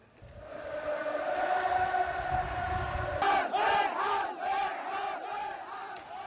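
A dense crowd of tens of thousands of protesters fills the main streets of Yemen's capital Sanaa, a loud sustained roar of shouting voices that surges into rhythmic chanting bursts partway through.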